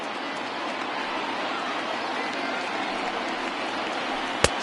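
Crowd of over 39,000 on their feet cheering at a baseball stadium in a PS4 baseball game, a steady, dense roar of applause and cheers sustained throughout, with a single sharp click near the end.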